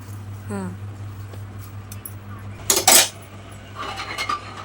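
A metal lid clatters into place on a pressure cooker with a sharp burst of clanks, followed by lighter metallic rattling, over a steady low hum.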